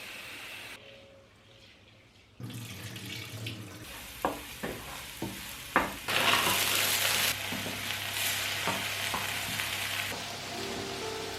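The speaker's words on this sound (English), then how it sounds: "You just fry it fragrant in the pan directly with the onions" Rice frying with onions in a pan, a sizzling hiss that starts partway through and steadies under a few sharp clinks and stirring knocks, close and fairly quiet with no voices.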